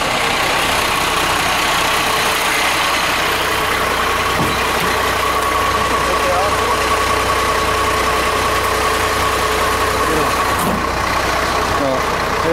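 Diesel engine of a council litter bin truck idling with the power take-off engaged, a steady loud drone with a faint mechanical whine and occasional clunks, a voice speaking briefly over it.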